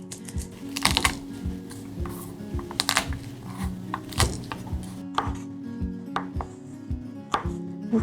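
A knife chops and trims garlic cloves on a cutting board, a run of close, sharp taps and thunks coming in uneven bursts with brief pauses, no talking over them.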